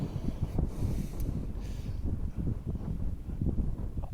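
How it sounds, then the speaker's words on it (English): Strong wind gusts along a mountain edge on Cribyn in Wales in November, a continuous low roaring buffet against the microphone with no voices. "The wind blows along that edge."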